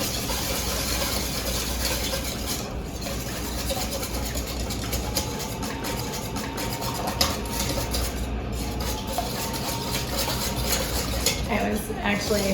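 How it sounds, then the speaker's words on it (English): Eggs and pepper for a vegetable quiche are whisked in a bowl: a fast, continuous run of light metallic clicks and scrapes that keeps an even rhythm for several seconds. "I'm gonna just whisk this all up"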